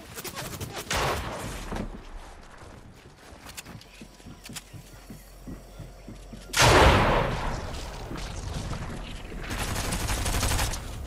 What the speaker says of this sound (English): And his partner's shooting me down.